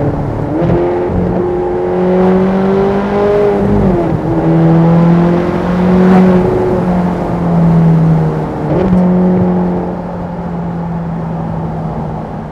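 A Ferrari California 30 V8 engine hums loud and close from inside the car, its pitch sliding and jumping as the gearbox drops down to fourth, then settling into a steady drone.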